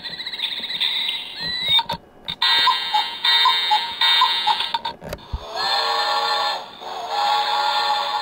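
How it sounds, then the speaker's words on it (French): Several alarm tones from a Claessens' Kids Kid'Sleep Clock children's alarm clock, with chirpy electronic beeping and warbling melodies that change pattern a few times, sounding close and steady with brief pauses between them. "3 choix d'alarme sont possibles."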